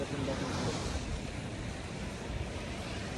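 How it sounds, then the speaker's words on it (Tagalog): Ocean waves wash onto the beach at Anawangin Cove in a steady, broad surf roar, mixed with wind buffeting the microphone. "Ayan yung karagatan"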